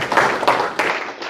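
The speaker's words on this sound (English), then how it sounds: "Round of applause for Kevin." Audience applause in a business workshop room: a short, fairly close burst of clapping with a few distinct sharp claps standing out.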